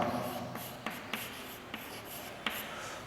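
Marker or chalk writing on a board in a chemistry lecture, with steady scratchy strokes punctuated by several sharp taps as the pen lands, close and fairly loud with no talking.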